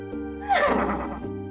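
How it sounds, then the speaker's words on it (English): A horse whinnies once in a video game, a bright rising-then-falling neigh over a steady synthetic tone, clear and close. "That's Pegasus, the winged horse."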